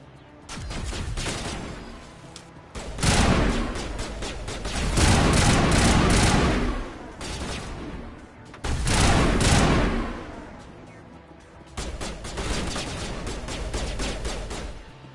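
Video game gunfire in rolling bursts of dense, crackling volleys that rise and fall in waves, loud and close, with brief quieter gaps between barrages.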